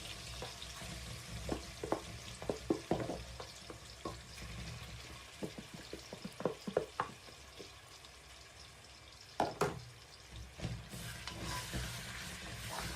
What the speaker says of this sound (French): Je mets la viande dans la marmite pour pouvoir bien cuire d'abord.